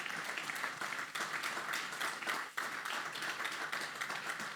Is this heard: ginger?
no